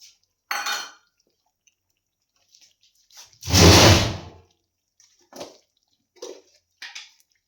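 Kadhi being stirred in a pot, with scattered scraping and clinking of a spoon against metal and one longer, louder swishing scrape in the middle, separated by quiet gaps.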